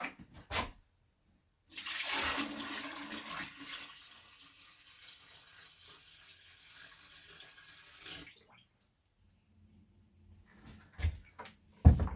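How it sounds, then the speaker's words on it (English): A newly plumbed toilet in a barn is flushed for its first live test: a rushing gush of water lasting about six seconds, then gurgling refill and draining sounds, fairly close and quiet, with no talking. "I want to try to flush it and see how that works, if it works"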